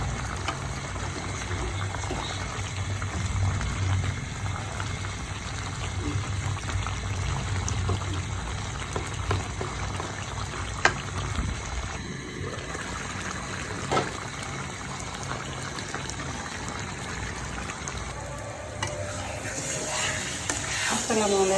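Garlic frying in oil for mango pickle, a constant low sizzle and bubbling with scattered stirring scrapes and one sharp clack midway.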